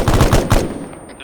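Rapid automatic gunfire from the Arma III video game rattles in a fast, loud burst of close shots, then cuts off and leaves a fading tail.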